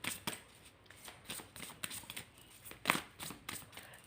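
Tarot cards being drawn out and shuffled by hand during a reading, a quiet run of soft, quick papery flicks and snaps in an irregular rhythm, close up and faint.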